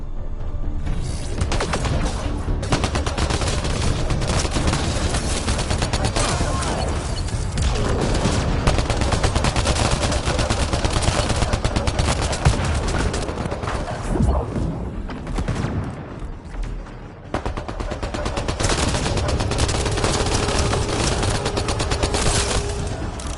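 Gunfire in a video game: dense, loud volleys of rapid automatic shots with heavy booming thuds, continuing almost without pause, with a brief lull near the end before the shooting resumes.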